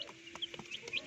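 A hen clucks softly near her chicks, with several short clucks and faint high peeps in quick irregular succession, close and alone.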